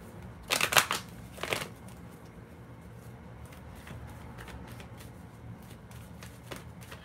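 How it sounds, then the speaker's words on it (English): Romance Angel Oracle cards being shuffled by hand in a quiet room, two brisk riffling bursts near the start followed by softer, sparse card handling and faint rustles. "Let's pull some Romance Angel Oracle cards."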